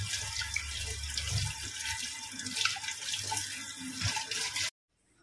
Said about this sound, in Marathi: ही अळूची पानं मी स्वच्छ धुवून घेणार आहे